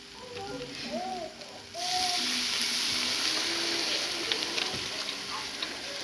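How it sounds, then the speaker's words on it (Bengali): A little water hits spice paste frying in oil, setting off a sudden loud, steady sizzle that carries on close by after a few quieter kitchen sounds. "দিয়ে দেবো অল্প পরিমাণে জল।"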